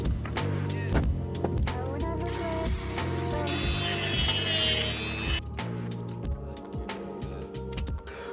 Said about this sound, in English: cut to a rough length and grind to the correct length